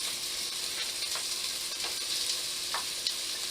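Shallot and garlic sizzle and fry in a pan alongside caramelized onions for French onion soup, a steady close hiss with a few soft stirring scrapes.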